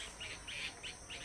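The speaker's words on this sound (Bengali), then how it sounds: "এই দেখেন বুলবুলি পাখির ডাকগুলো শোনেন।" Bulbul birds calling among hillside trees, a series of about four short, bright chirping phrases repeating in a steady rhythm, faint and somewhat distant over a soft insect-like hiss, with no one talking.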